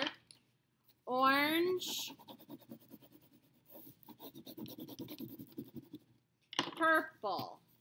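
Scratchy crayon or marker strokes rubbing across paper for a first-grade caterpillar craft, brief bursts of rasping between quiet gaps, with a voice speaking and other voices near.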